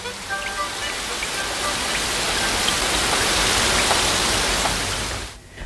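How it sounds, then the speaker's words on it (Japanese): Steady rain falling and pattering on surfaces, a dense continuous hiss with scattered drop hits, fairly loud, easing off briefly at the very end. "でもこの雨止まないかもしれませんよ。"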